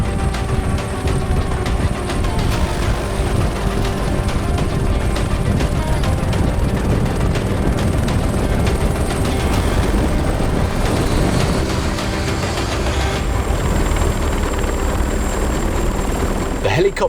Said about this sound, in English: Helicopter safely on the ground, the landing a success.